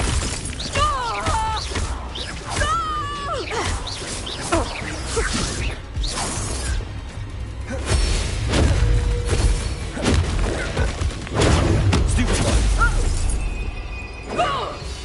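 Spell blasts in the Hogwarts Legacy video game: rapid crashing booms, shattering impacts and whooshes in quick succession, dense and loud, with shouted voices and game effects overlapping throughout.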